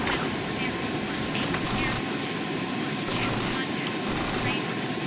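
The FedEx MD-11F freighter's jet engines roar continuously during takeoff in a flight simulator game, a dense broad whine and rumble held at high volume, with faint voices underneath.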